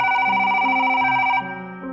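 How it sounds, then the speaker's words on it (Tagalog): A cellphone rings with a loud electronic tone, a repeating steady pattern of bright pitches that shifts partway through, close up and alone without talk. "Tumunog muli ang kanyang cellphone."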